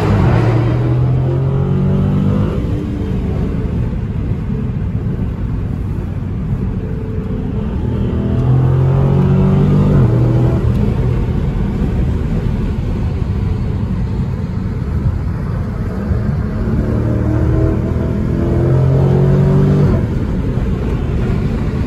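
A Dodge Challenger R/T Scat Pack with a 6.4 HEMI V8 accelerates under a bridge, heard from inside as a loud, steady, deep engine rumble with rising revs and gear changes lasting over twenty seconds.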